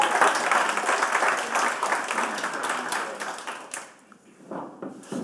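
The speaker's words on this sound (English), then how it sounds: "round of applause for Pietro, everyone." An audience claps for a speaker at a video game talk, a burst of applause that fades out toward the end with a few scattered claps.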